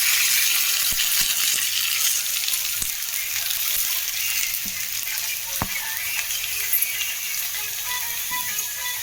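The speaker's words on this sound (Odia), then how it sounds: "ଚାଲନ୍ତୁ ପିଆଜ ଏବେ ଭଜା ଚାଲିଛି" Onions frying in a pan, giving a steady, dense sizzle that runs the whole way through with a few faint clicks of utensils against the pan.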